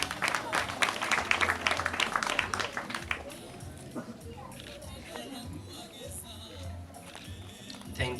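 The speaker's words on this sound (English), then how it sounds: "Let's come forward. A clap for them." An audience at an outdoor environmental conservation awards ceremony in Nairobi claps, fairly loud scattered applause in the first few seconds that thins out and fades, with a voice speaking afterward.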